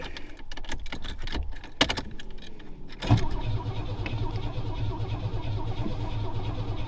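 A Pontiac Fiero GT that sat for fifteen years cranks in quick rhythmic chugs with a couple of sharp clicks, then catches into a low, steady idle-like rumble, heard up close with no talk.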